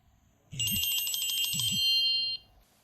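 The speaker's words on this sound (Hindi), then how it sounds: "फोन आया है।" An electronic telephone rings up close in a home. Two bright warbling ring bursts sound back to back over about two seconds, then stop, with no voices over them.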